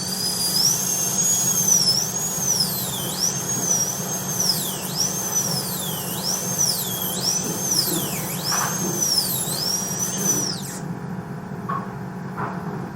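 High-speed dental burr cutting a tooth while preparing for an all-ceramic onlay on tooth 14: a loud, steady whine that repeatedly dips and rises in pitch as the bur loads and frees, over constant suction hiss, then abruptly stops.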